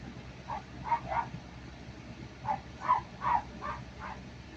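A dog barks in short bursts, roughly seven yips and woofs grouped in twos and threes, fairly distant and faint over a low background hum, with no talk heard.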